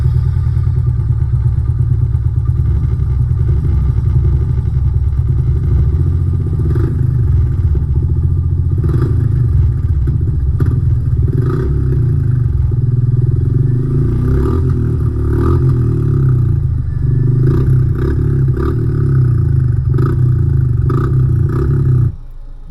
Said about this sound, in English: So this is the first one is Red Rooster Polestar,